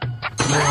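A mobile phone rings from under a cot, a short, loud electronic ringtone that fills the moment, steady and close.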